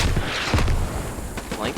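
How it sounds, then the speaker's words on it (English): An MG3 machine gun fires in the Squad game on the Logar skirmish map: rapid, fairly faint bursts crackle through a dense wash of battlefield noise. "I'm getting mowed down by a MG3"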